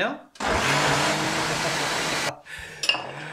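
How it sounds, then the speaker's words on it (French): An electric blender whirs loudly for about two seconds, mixing water, chopped onion, coriander and parsley, then stops abruptly with a brief clink of kitchenware afterward. "alors là, elle va mixer l'ensemble. Donc l'eau avec l'oignon coupé en petits morceaux, avec les deux poignées de coriandre et deux poignées de persil"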